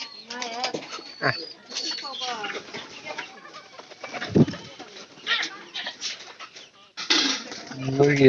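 Pigeons coo in a loft, their soft, throaty calls mixed under almost constant nearby talking.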